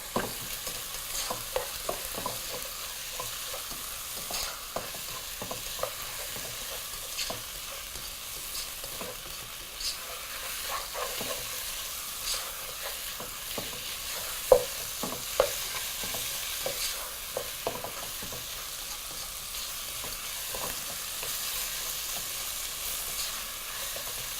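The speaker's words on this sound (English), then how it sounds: "Now we're going to continue frying this at high heat for anywhere between 5 to 6 minutes, constantly turning the mixture around" Mutton for biryani frying over high heat in a pan, with a steady close sizzle and frequent scraping stirs throughout, no talking.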